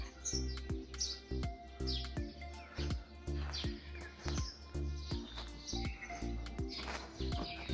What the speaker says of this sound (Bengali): কত রকম সুরে পাখি ডাকছে,